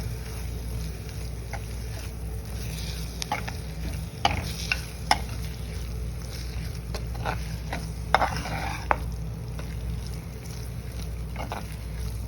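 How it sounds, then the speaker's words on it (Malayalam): A spoon stirs asafoetida into a curry in a pan. Steady low sizzling hiss runs throughout, with a few sharp scraping clicks of the spoon against the pan. "എടുത്ത് വെച്ച കായം അത് ഇതിലോട്ടൊന്ന് ആവശ്യത്തിന് അതൊന്ന് ഇളക്കി കൊടുക്കാം"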